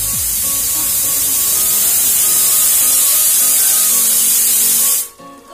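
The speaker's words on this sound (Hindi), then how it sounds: "जैसे कि आप सुन सकते हैं कुकर रेसिपी लग चुका है" A pressure cooker lets off a loud, steady, high steam whistle for about five seconds, then cuts off abruptly, heard close up at a flood relief camp.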